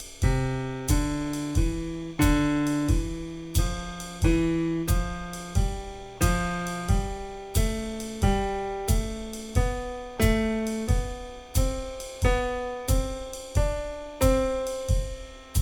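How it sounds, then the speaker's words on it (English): A plucked melodic instrument steps through a scale in repeating three-note groupings played as quarter notes over a 4/4 beat, each note evenly spaced, clear and up close. "we're playing 3-note groupings in quarter notes, but we're playing that over this 4/4 beat"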